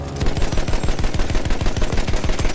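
Rapid automatic gunfire in the online shooter Battlefield 1, a loud unbroken machine-gun burst of evenly spaced shots filling the whole stretch.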